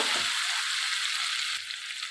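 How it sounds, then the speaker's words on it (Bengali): Spices and tomato fry in hot oil for a chicken curry, a loud steady sizzle close up, with a dull scrape of stirring near the start and a small dip as the pan is stirred again. "মশলার সঙ্গে কষে নেব, ভেজে নেব মশলার সঙ্গে।"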